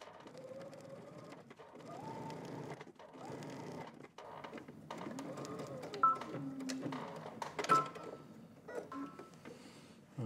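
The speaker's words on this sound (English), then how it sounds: "I'm just stitching on this side of the seam all the way to the other corner." A sewing machine stitches along a fabric seam in short, rapid mechanical runs separated by brief pauses.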